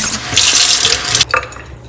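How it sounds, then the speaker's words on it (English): Tap water gushes loudly into a bowl of tomatoes in a college residence kitchen, a hissing splash that stops abruptly, followed by a few faint knocks and clinks. "put some water in this."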